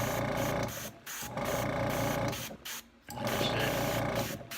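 Airbrush spraying paint onto a model dragster in short pulsed bursts, a hissing buzz that cuts off and restarts with each trigger pull, close and moderately loud, no talk.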